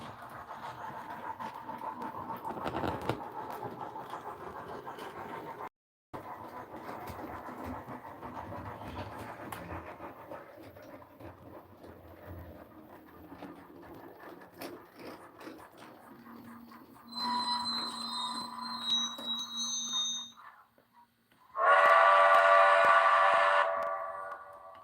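A train rumbles past in a game's railroad setting, a steady chugging run that gives way to a couple of loud whistle blasts near the end, the last one long and strong.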